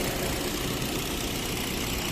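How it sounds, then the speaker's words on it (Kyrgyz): A 2016 Kia Rio with a 1.6 engine and automatic gearbox idles close by, a steady even rumble throughout the short stretch with no talk. "Мотору жакшы от алып турат."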